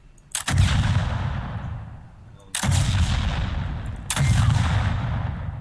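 Grenade launcher fire in the video game HoldOut: three heavy, booming blasts about two seconds apart, each with a rumbling explosive tail that fades before the next shot.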